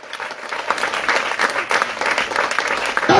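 A church congregation breaks into sustained applause, a dense, loud wash of clapping filling the room steadily for a few seconds with faint voices mixed in.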